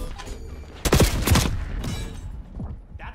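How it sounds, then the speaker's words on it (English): Bursts of gunfire from the AK74 in the Call of Duty: Black Ops 6 beta, a few loud close shots around the one-second mark followed by quieter echoing impacts and game noise. "Man, you can shoot through a lot of material in this game."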